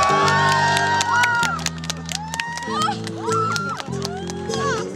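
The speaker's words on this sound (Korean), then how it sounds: "뜨거운 박수 부탁드릴게요." Outdoor street performance crowd in Sinchon cheers and claps as a proposal begins, with whoops and shouts over loud sustained music chords and a voice speaking through it.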